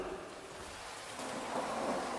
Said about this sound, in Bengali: ঝমঝমিয়ে বৃষ্টি পড়ছে, মাঝে মাঝে বাজির শব্দ কানে তালা ধরাচ্ছে